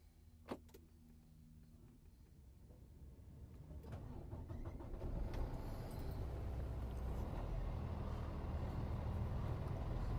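A 2024 Freightliner M2 112 truck engine cranks and turns over, then settles into a steady, loud rumbling idle that continues to the end.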